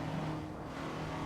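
An Alfa Romeo GTA engine in a VR racing game on the 1966 Monza road course, a steady, close engine drone that holds a constant pitch over a brief moment.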